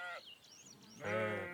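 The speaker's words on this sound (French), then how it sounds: "Pourquoi élevez-vous tous ces moutons?" Sheep raised for meat bleat in the Tashkent mountains of Uzbekistan, two close, clear wavering calls separated by a short pause, the second longer and louder.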